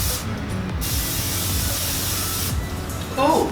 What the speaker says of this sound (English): you're gonna take some cooking spray